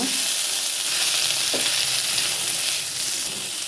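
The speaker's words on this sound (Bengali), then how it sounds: "টমেটো কুচি দেওয়ার পরে এটাকে আমি আবার ভালো করে নাড়াচাড়া করে নেব" Semolina upma with chopped tomato sizzles steadily in a pan as it is stirred, a dense close frying hiss with a soft scrape or two, fading slightly toward the end, no talking.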